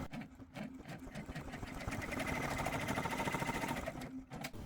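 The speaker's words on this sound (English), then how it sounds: "transfer to your embroidery machine and stitch out the circle" An embroidery machine stitches out a circle, its steady rapid needle chatter rising and holding at a constant level, close and continuous with no talking.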